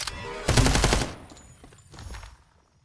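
Automatic gunfire from the video game FragPunk: a loud, dense burst of rapid shots at close range, then a few softer, more distant shots trailing off into quiet.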